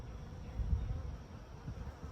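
Low, steady buzzing of honeybees around a hive box, a faint close hum with slight swells and no talking.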